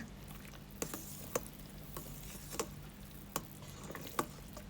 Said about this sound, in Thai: เคี่ยวมาได้ประมาณ 10 นาทีค่ะ คนต่อไปอีก 5 นาทีนะคะ